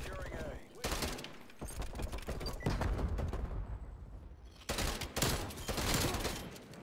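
Bursts of rapid TEC-9 gunfire in the video game Call of Duty Cold War, several loud automatic volleys separated by short pauses.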